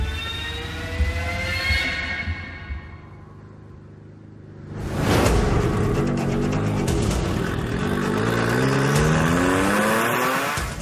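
Guy Martin's 150 mph race van pulls away from the start line in a road race, the engine rising from a loud roar into a long climbing howl with a second surge of acceleration.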